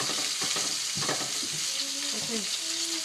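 A steak sizzles in a pan just after being flipped, a close steady hiss with a few brief clatters early on and faint tonal sounds in the background.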